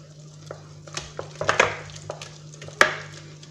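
A utensil stirs eggs into chocolate cake batter in a bowl for a water chocolate cake, giving irregular soft knocks and scrapes with a couple of sharper clinks against the bowl, close up, with no talk.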